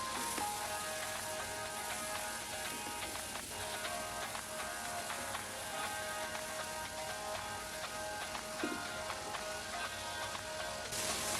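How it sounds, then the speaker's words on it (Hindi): Beef mince with garlic and ginger fries steadily in a pan. The dense, even sizzle runs unbroken at moderate loudness, with an occasional louder pop or scrape, and no voices are heard. "लहसुन अदरक ऐड करके इसको थोड़ा भूनेंगे ताकि इसकी स्मेल ख़त्म हो।"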